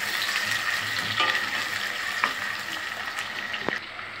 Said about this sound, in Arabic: هنزل بالبصله بتاعتي وهقلب فيها لحد ما تحمر